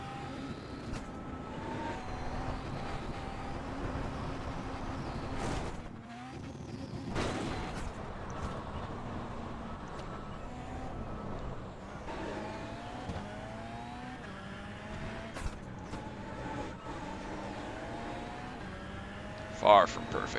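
A rallycross Volkswagen Beetle Lite lapping the Daytona short course in the iRacing sim, its engine droning and revving through gear changes, with occasional sharp bangs and thumps over a continuous hum.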